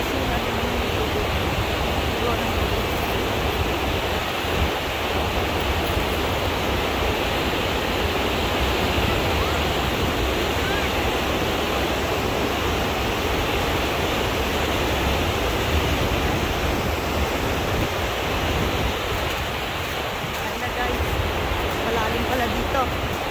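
Strong river water rushing along the Napanee River Trail in snowy conditions, a loud, continuous broadband roar filling the whole stretch, with someone speaking faintly at moments.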